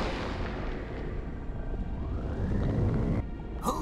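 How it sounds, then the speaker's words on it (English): A powerful explosion attack rumbles through the mobile action game Kloot Arena, a dense, continuous blast of boom and debris noise that swells toward the end, closing with a sharp burst. "Rage has one powerful explosion attack."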